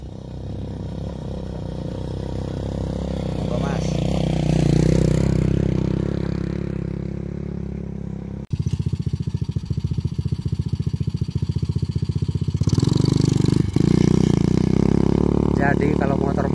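A motorcycle geared with a 39-tooth rear and 10-tooth front sprocket labours up a steep mountain road on Mount Sumbing, its engine droning and then chugging in a rapid, rough pulse, loud and close, with a person talking over it.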